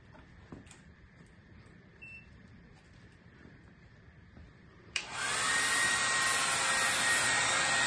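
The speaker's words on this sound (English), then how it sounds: "We have a hair dryer, pull about 13 amps." A hair dryer drawing about 13 amps from a BLUETTI Elite 200 V2 power station switches on abruptly after a low, quiet hum, then blows with a loud, steady whoosh to the end.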